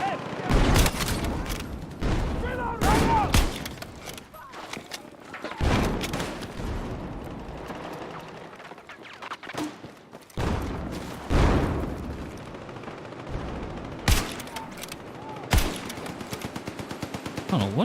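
Gunfire in a video game: loud, clustered bursts of automatic shots and heavy booms scattered through the stretch, with someone talking between and over the volleys.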